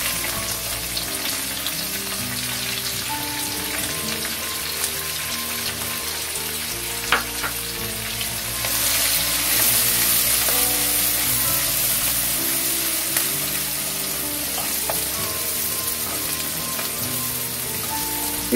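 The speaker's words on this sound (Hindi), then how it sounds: "हमारा जीरा भुन गया है। अब इसमें हम प्याज डालेंगे" Chopped onions frying with roasted cumin in a hot pan for a dhaba-style aloo gobhi matar sabzi, giving a continuous loud sizzle with occasional stirring scrapes and a brief burst of stronger spitting midway.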